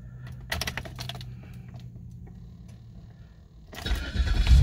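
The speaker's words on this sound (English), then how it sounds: "engine is running" A GM car engine cranks and starts after its engine computer is reprogrammed, a loud rising rumble near the end following a few seconds of clicking and faint rattles.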